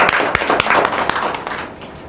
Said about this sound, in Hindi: उन सब का हम हार्दिक दिल से तालियां बजाकर स्वागत करते हैं